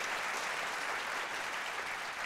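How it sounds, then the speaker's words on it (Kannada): A studio audience at a comedy talk show breaks into applause, a dense, even patter of many hands clapping, fairly faint and continuous for a couple of seconds without speech. "ತಟಿ ಚಪ್ಪಾಳೆ"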